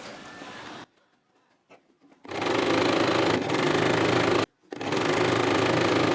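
A sewing machine stitches a design onto a double-folded blouse piece, its motor whirring steadily and close in two long runs after a quiet start, with a brief pause between them.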